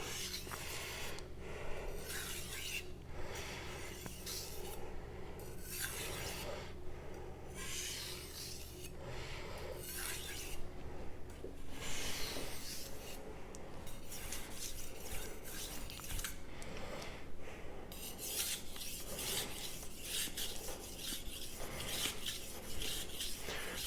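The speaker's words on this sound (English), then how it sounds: "pushing the blade into the stone at 15 degrees. And I'm pulling it towards me here into the stone." Knife blade drawn across a wet Sharp Pebble whetstone at a 15-degree angle, repeated close rasping strokes in an even back-and-forth rhythm, moderately quiet with no voices.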